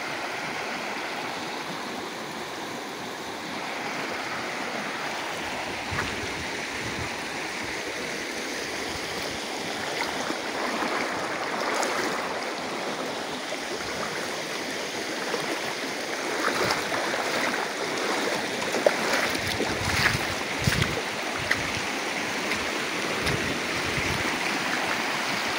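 The clear Cibentar stream flows steadily, a continuous broad rushing and babbling of water heard up close and alone for the whole stretch, with occasional faint knocks.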